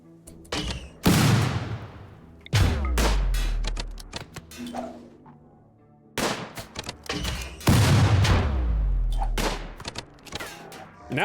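Colonists in RimWorld open fire on a pikeman, a series of sharp shots in clustered volleys with echoing tails, some loud and close, others quicker and lighter, with pauses between bursts.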